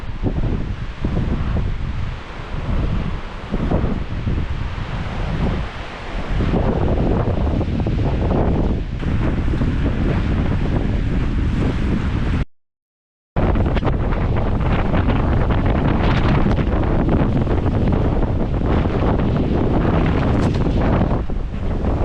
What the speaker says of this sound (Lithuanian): išgyvenom nežmonišką vėją